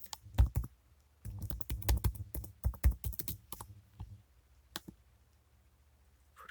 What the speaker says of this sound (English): Let's type it about.